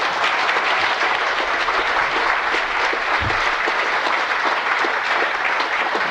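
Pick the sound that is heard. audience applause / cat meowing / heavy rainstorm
audience applause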